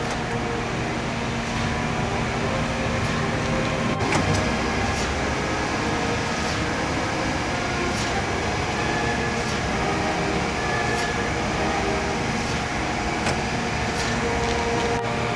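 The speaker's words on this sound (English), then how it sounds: "Press start button to start surface grinding." An ACER Supra-1640AHD surface grinder runs through a surface grinding pass, giving a steady, dense mechanical roar with faint repeated ticks and no voices.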